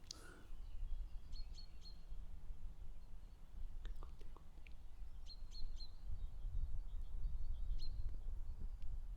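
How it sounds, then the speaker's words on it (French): Scattered bird chirps and short calls ring out against a low, steady rumble of background noise, fairly distant and soft. "laisse-toi porter par le son des oiseaux"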